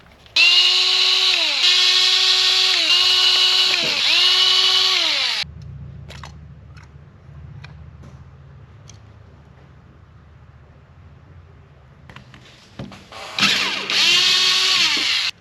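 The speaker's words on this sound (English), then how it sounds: "So we're going to open these 4 screws, and we're going to be able to get to the inside of the carburetor." Power drill or driver spinning out the four carburetor screws on a Yamaha 15 outboard after five years stored in a barn, with loud whirring bursts at the start and end and quieter clicks and handling noises in between.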